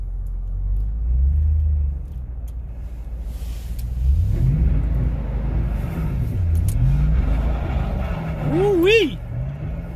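A Toyota Tundra Double Cab pickup engine rumbles low and steady as the truck makes a slow U-turn in a snowy, icy cul-de-sac, with revs rising and falling. Another passing car is also heard.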